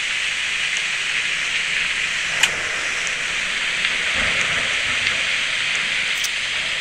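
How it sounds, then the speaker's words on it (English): Steady hiss of heavy rain during a thunderstorm at night in the horror game Night Cleaner, a continuous wash with a couple of faint brief clicks, no voices. "You know, it's a thunderstorm."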